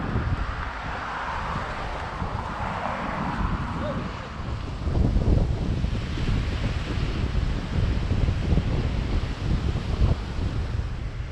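Wind and surf on the Mediterranean shore at a seaside resort on a breezy day, a steady broadband rush with wind buffeting the microphone, growing slightly louder midway and continuing without a break.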